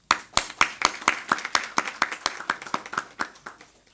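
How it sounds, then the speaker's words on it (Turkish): Audience clapping at a legal-system conference session, a sparse, rhythmic series of distinct hand claps, close and evenly spaced, tapering off over a few seconds. "Alkış."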